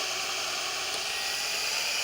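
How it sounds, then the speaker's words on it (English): A power drill whines steadily while drilling into a 2x4 board during a low-profile balcony deck rebuild, a continuous, close, high-pitched buzz with no talking. "the drill bit sticks out of the drill long enough to drill almost through the 2x4"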